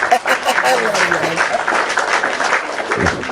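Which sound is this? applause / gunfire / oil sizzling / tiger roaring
applause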